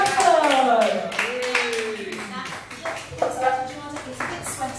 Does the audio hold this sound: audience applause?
yes